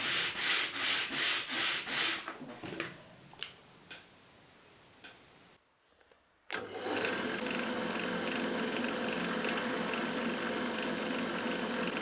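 Wooden pallet valves for a homemade portative pipe organ being sanded, with rhythmic rubbing strokes at first, then scattered taps and a brief silence, followed by a loud, steady machine-like sanding drone.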